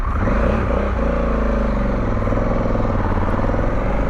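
A motorcycle on the BR-319 highway that tends to pop and stall unless put in neutral, its loud, steady engine chugging close by with irregular sputtering, and no talking.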